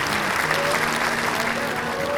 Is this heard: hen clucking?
no